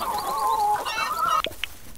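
Chickens clucking on a farm in the survival farming game Dinkum, a close run of warbling clucks followed by a few short sharp calls, with no talk.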